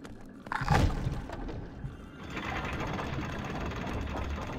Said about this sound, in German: Ah, okay, das ist ein Aufzug.